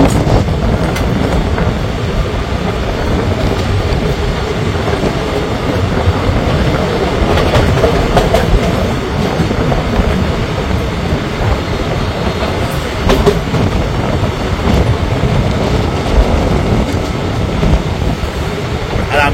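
Haldibari Intercity Express running on the Baranagar–Dakshineswar–Dankuni line from Kolkata: a steady loud rumble of wheels on rails with clickety-clack and occasional squeals, continuous throughout with faint voices in the background.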